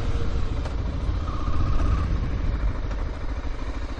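A 1996 BMW F 650 single-cylinder motorcycle manoeuvres slowly around a car park, its engine a steady close rumble with low chugging throughout, no talk over it.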